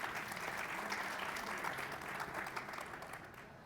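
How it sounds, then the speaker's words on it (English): An audience applauds to welcome panelists at a product management panel discussion, a dense, even round of clapping held for a few seconds at moderate volume. "Let's give a warm applause to our panelists today."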